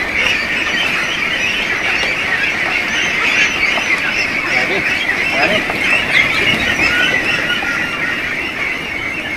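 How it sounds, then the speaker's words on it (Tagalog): A flock of one-month-old Itik Pinas ducklings on a duck farm, continuous dense quacking and squawking from many birds at once, close and loud throughout. "So yan po ang itik Pinas na 1 month old."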